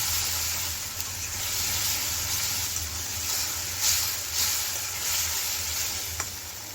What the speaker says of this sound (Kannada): ಈಗ ಇದನ್ನು ಇದರ ಹಸಿ ವಾಸನೆ ಹೋಗೋವರೆಗೂ ನಾವು ಚೆನ್ನಾಗಿ ಮಿಕ್ಸ್ ಮಾಡ್ತಾ ಹುರ್ಕೋಬೇಕಾಗುತ್ತೆ